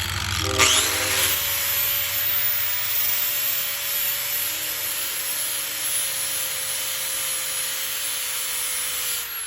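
An angle grinder with a 60-grit sanding disc whines steadily and loudly up close, a sustained abrasive hum that holds for several seconds without a break.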